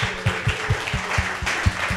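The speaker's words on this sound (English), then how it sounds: "You applauded yourself." A small comedy-show audience claps in a steady rhythmic pattern, the individual hand claps distinct and fairly close, with no voices over them.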